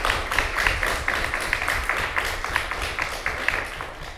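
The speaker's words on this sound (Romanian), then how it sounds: "haideți să o aplaudăm" Audience applause at a national education project launch event, a steady wash of many hands clapping throughout, moderately loud with no one speaking over it.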